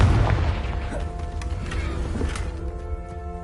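A Confringo fire spell blasts in the Hogwarts Legacy video game, a deep booming explosion that rumbles loud at the start and trails off into a sustained low roar.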